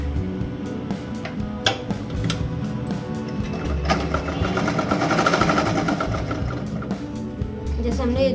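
Domestic sewing machine stitching kurti fabric at a collar-neck seam, a steady mechanical whir with rhythmic needle clatter running throughout, while someone talks over it.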